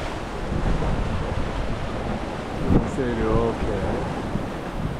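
Steady wind and wash of waves around a 44-foot sailing yacht running downwind with its engines off, a broad continuous rush with a brief louder gust midway and a voice speaking briefly over it.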